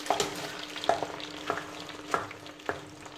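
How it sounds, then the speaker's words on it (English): Beef fat melting down into tallow in a pan over low to moderate heat, crackling and sizzling in quiet irregular pops over a soft frying hiss. "You can hear there, the fat's cooking away."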